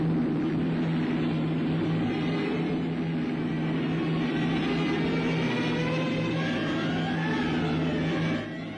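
WWII bomber and fighter aircraft flying overhead, a continuous loud droning engine roar with steady low hum and broad rushing noise, sustained throughout with no voices.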